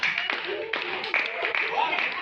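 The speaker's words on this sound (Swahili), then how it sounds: "Ingia Yesu makofi." A church congregation claps for Jesus in brief scattered bursts beneath a loud preacher's voice, the claps light and intermittent.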